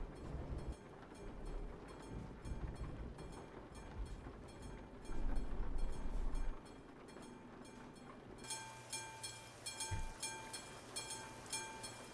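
A train rolls past in Euro Truck Simulator 2, a steady rumble with rhythmic clatter that swells and then cuts to quieter engine-like hum with periodic clicks near the end.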